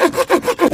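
A hand camping saw cuts through wood in rapid, even back-and-forth strokes, loud and close, about three rasping pulls in under a second with no voices.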